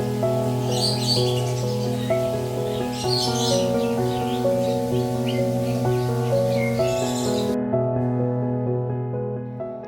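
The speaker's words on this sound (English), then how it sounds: "already we can hear the birds" Birds chirp and call in bursts at Bali Bird Park over a steady, tonal background hum, the calls moderately close and fairly faint.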